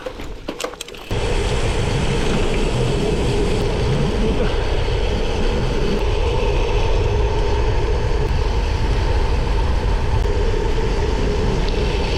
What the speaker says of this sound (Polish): Co za piękny wiatr.